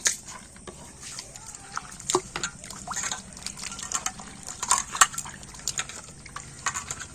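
Jackfruit seeds are swished and rubbed by hand in a bowl of water, producing scattered splashes, sloshes and small knocks of seeds against the container, close and fairly quiet.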